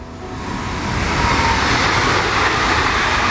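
A train rolls past on the tracks nearby, making a steady broad roar that slowly builds and holds, with no voices over it.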